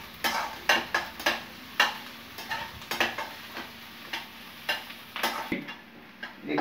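Onions frying in a pan for a potato and cabbage dish get stirred with a utensil, giving repeated sharp scraping clinks in an uneven rhythm over a soft, close sizzle.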